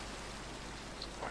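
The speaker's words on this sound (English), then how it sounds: "with all the rain coming down" Steady rain pours down in the Minecraft game world, a constant broadband hiss that fills the whole short stretch at an even level, with no voices over it.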